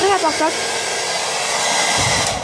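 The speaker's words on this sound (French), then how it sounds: "alors vous pouvez déjà brancher le sèche-cheveux" Hair dryer blowing steadily, a loud continuous whooshing hum with a brief rising whine at the start, running alone without talk, used for waving a doll's hair.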